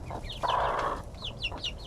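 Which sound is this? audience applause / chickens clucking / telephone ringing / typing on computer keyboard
chickens clucking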